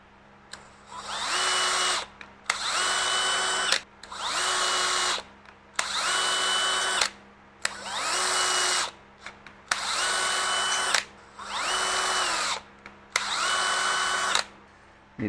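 A power drill whirs into plastic in eight even bursts of about a second and a half each, separated by short pauses, loud and close with no talking.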